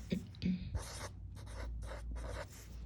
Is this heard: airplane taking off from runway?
no